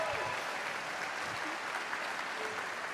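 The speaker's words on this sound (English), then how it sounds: "one more round of applause for our entire trumpet section" Audience applause at a summer jazz concert after the trumpet section plays, a steady dense wash of many hands clapping throughout, fairly distant and even in level.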